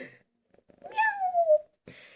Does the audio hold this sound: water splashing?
no